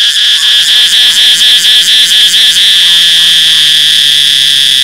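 Cicada calling loudly outdoors, a dense steady buzzing drone that pulses rhythmically at first and then settles into a continuous shrill whine, close and dominant throughout with no talking.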